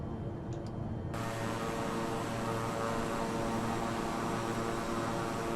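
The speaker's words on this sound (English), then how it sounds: "lowering the landing gear." In a flight game, a passenger aircraft heading from Boston to Philadelphia lowers its landing gear on approach; a quiet, steady engine and airflow drone runs throughout, with a faint brief tone near the start before the drone thickens.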